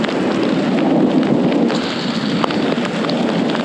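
Hail and rain pour down in a mountain canyon, a loud, steady broadband hiss of falling water with scattered sharp ticks and impacts throughout, no voices present.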